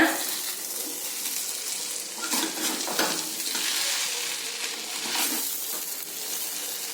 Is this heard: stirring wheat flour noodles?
yes